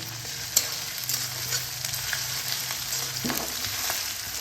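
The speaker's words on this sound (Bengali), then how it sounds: "অল্প এক চামচ মতো আদা বাটা দিয়ে দেবো আদার কাঁচা গন্ধটা না যাওয়া পর্যন্ত এটা আমি কষাতে থাকবো" About a spoonful of ginger paste frying in a hot pan, a steady close sizzle with occasional scraping strokes as it is stirred, alone without talk.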